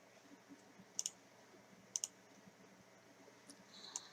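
Computer mouse clicking on the File Explorer icon in the taskbar: two quick double clicks about a second apart, soft and close, over a faint steady room hiss with no talking.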